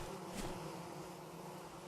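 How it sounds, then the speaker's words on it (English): Low, steady hum of bees around an old backyard hive, a soft continuous drone with one brief closer buzz passing by early on. "here's where I put my old bees at"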